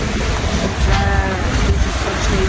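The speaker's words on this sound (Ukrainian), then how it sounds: "вітер, коротше, піднявся, почався дощ вже стало холодно" Gusty wind buffets the microphone in a loud, continuous roar with rumbling low-end bursts.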